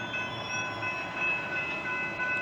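A passing train at a railroad crossing in Grapevine, Texas, heard as a loud, steady rumble with sustained tonal whine, fairly close and without talking.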